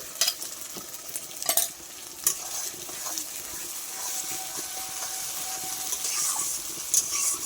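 A ground paste of cumin, ginger, dried red chili and garlic fries for mutton curry, a soft continuous sizzle and hiss broken by a few sharp stirring scrapes and clinks, close and fairly quiet with no voices.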